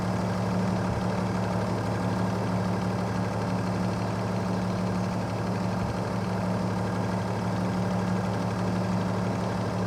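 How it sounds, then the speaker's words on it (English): Car engine idling with a reported clank, a steady, loud, continuous hum with a low drone that stays even throughout. No distinct clank stands out, and no one speaks. "There's definitely a clank in the engine."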